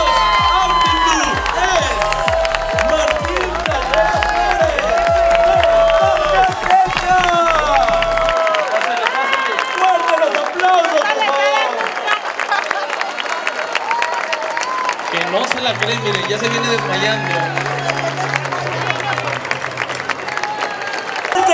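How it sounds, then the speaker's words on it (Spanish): A crowd at a Zacatecas car raffle cheers and applauds the announced winner, loud and sustained, with an announcer talking over it and music running underneath. "¡Fuerte los aplausos para Martín Caldera Flores de Zacatecas!"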